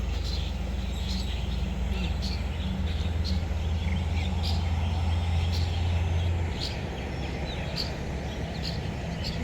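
Several birds chirp and call on and off in a small garden, fairly distant, over a constant low hum with insect-like buzzing.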